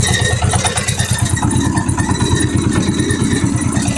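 A mini tractor's engine runs while the tractor drives slowly, producing a loud, close, steady rhythmic chugging that continues throughout with no talking.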